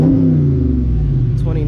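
The exhaust of a 2020 Dodge Charger Scat Pack rumbles loud and close in a deep, continuous engine drone, with a voice talking over it at the end.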